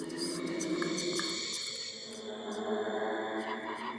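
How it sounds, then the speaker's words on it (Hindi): Eerie whispering voices in a horror setting inside a haunted mansion, a continuous hushed murmur of hissy breathy sounds over a low droning bed, sustained throughout with a slight dip midway. "चारों ओर अजीब सी फुसफुसाहटें सुनाई देने लगीं।"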